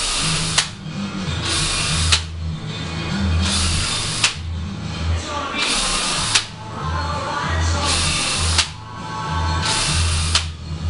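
Power drill driving coated, coarse-thread outdoor screws into a wooden shutter, several loud whirring bursts of a couple of seconds each separated by brief pauses, close and alone.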